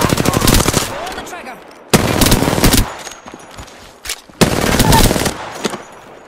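Rapid automatic gunfire from a weapon in the video game Apex Legends, rattling off in three loud bursts separated by short pauses, close and dominant.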